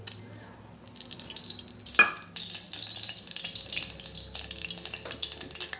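A steady faint sizzle of oil heating in a frying pan, with one sharp splash or clink partway through and a continuous crackling hiss.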